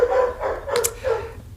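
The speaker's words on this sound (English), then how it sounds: "Please excuse the dogs barking." Dogs barking indoors in the background, a few short bursts spread across the moment, moderately loud and close-sounding.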